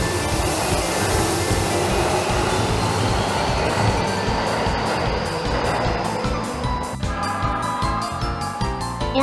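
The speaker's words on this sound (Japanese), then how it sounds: "都営浅草線の新型が来ました" A new Toei Asakusa Line subway train pulls into the station, a steady loud rumble of wheels and motor with rhythmic clacks near the end, no talk over it.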